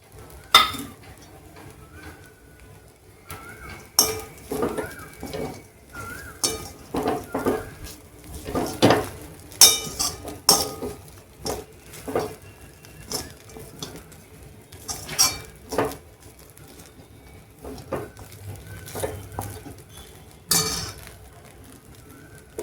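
Fried potatoes go into a pan of flattened rice (avalakki) and are stirred with a metal spoon, giving repeated scraping clinks and clanks in an irregular rhythm, close and fairly loud over a faint sizzle.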